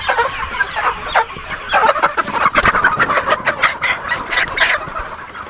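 Chickens cluck and squawk continuously, a busy flock nearby with overlapping calls and no talking.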